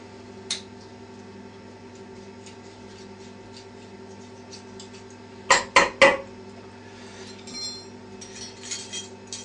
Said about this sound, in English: One vitamin B1 tablet, crushed.